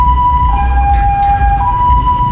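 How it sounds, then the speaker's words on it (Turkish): An ambulance siren on a street near Patong Beach, Thailand, sounds loud and steady over low traffic rumble, a sustained wailing tone as the vehicle goes by. "ambulans gidiyor"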